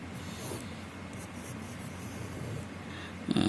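A pen or pencil drawing a nerve cell diagram by hand, with soft continuous scratching strokes on paper, close and quiet, ending with a brief louder scrape and no talking.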